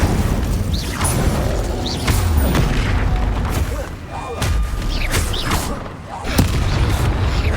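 Incendio fire spells are cast repeatedly in Hogwarts Legacy on PC, giving loud, close whooshing bursts and deep booms. They come in quick succession over a dense, rumbling backdrop of combat noise.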